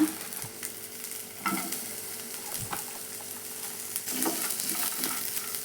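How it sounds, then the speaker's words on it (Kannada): Cinnamon, cloves, cardamom, bay leaf, star anise and onion fry in a pan with a moderate crackling sizzle. Intermittent scrapes and clinks of a stirring spoon come and go, the sound is close, and no one speaks. "ಈ ಸ್ವಲ್ಪ ಫ್ರೈ ಮಾಡ್ಕೊಳ್ಳೋಣ"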